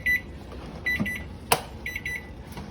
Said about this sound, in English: It's beeping, so I know this is ready, so I'm going to turn that off.